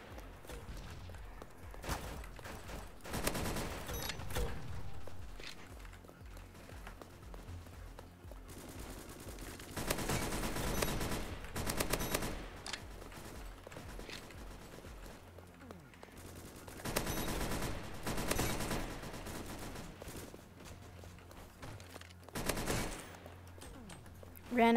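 Gunfire from a weapon in a Roblox shooter game: sustained bursts of rapid automatic fire alternating with quieter stretches, played back fairly faintly.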